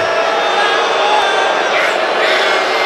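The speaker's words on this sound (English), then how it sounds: "This crowd turning a bit ornery tonight here in Reno." A basketball arena crowd in Reno, at a Nevada men's game against Air Force, grows ornery and boos the referees. A loud, continuous crowd roar fills the space while a commentator talks over it.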